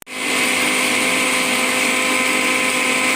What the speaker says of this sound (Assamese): আৰু এতিয়া মই গ্ৰাইণ্ডাৰত গ্ৰাইণ্ড কৰি ল'ম বাদাম আৰু চেনিখিনি।